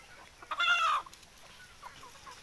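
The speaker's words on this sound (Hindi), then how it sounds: "देखिए दोस्तों एक मुर्गा जो फार्म पर चढ़ गया है" A single short cluck from a desi rooster on a free-range farm, close and clear, followed by faint rustling in a quiet setting.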